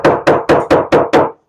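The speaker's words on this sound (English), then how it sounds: "use a wooden mallet or a small little rubber hammer like this to help those dowels into the hole" Six sharp, evenly spaced taps of a small rubber hammer driving wooden dowels into holes, loud and close with brief decays between blows.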